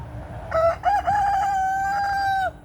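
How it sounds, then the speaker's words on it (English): A rooster crows once, a loud drawn-out call lasting about two seconds, close by, over quiet outdoor background. "Rude rooster."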